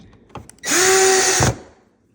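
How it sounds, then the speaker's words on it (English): Power drill driving a screw into a nail desk during assembly: one close, loud whirring burst under a second long, with brief clicks of handling before and after. "You just line up the G screws here. Screw that in."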